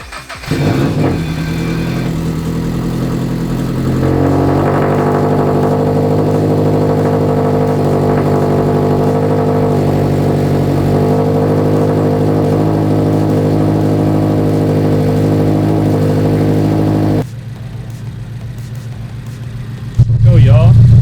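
A rebuilt Toyota GR86 engine runs at its startup idle, giving a loud, steady mid-pitched drone with a faint rise early on, then settling lower near the end.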